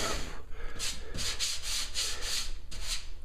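Close, rhythmic scraping strokes of sanding body filler on a 1995 Geo Metro body panel, about eight steady back-and-forth passes with no talking.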